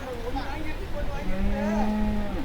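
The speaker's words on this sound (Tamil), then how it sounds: "இங்கே நிறைய எருமை மாடுகளும் வாங்கி கட்டியிருக்காங்க." Buffalo and cattle lowing at the Karungalpalayam cattle market in Erode, with several overlapping moos over steady market background noise.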